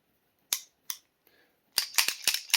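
A Springfield Operator 45 pistol's slide is racked by hand, two sharp metallic clacks followed by a faint slide, then a quick run of four or five crisp close-up clicks and snaps.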